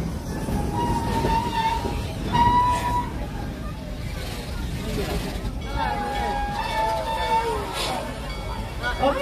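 Serengeti Express open tour train at Busch Gardens Tampa rolling along, steady rumbling and rattling of the cars with squealing wheel tones, a guide narrating over it throughout.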